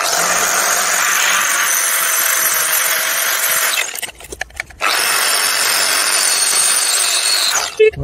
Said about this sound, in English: Lovely brand new flap disc, that'll clean it up in no time.